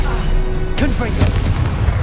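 Confringo fire-blast spell in the Hogwarts Legacy video game, a sharp burst and boom midway through followed by crackling impacts, loud, with voices around it.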